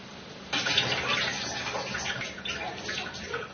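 Tomato and tamarind juice pours into a pot of cooked chicken with a steady, close splashing rush that starts suddenly and continues to the end.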